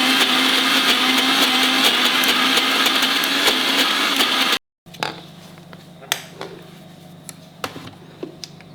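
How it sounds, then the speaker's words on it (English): A kitchen mixer-grinder whirs loudly and steadily as it grinds groundnuts for a bitter gourd bhaji, then cuts off abruptly, leaving a brief silence followed by faint clicks and clatter. "Grind it a little more because 1-2 groundnuts are just left."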